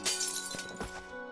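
Glass shatters loudly in the Back to the Future video game, a sharp burst of breaking pieces followed by a few scattered clinks as shards settle, with no talk over it.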